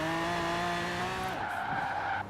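A Bentley 8-Litre drifting around a roundabout in Forza Horizon 4, tires squealing in a long, loud, continuous skid that shifts pitch partway through, with engine noise underneath.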